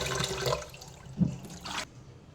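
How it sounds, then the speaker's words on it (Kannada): Water poured over salted, thinly cut jackfruit pieces in a kitchen, a short splashing pour with a brief gurgle, then a second rush of liquid before it settles to quiet. "ಇನ್ನು ನಾನು ನೀರು ಹಾಕಿಡ್ತೇನೆ."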